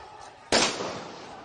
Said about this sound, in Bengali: 7-8টি টিয়ারশেল ছোড়া হয়েছে এবং ফাঁকা গুলি আপনারা শুনতে পাচ্ছেন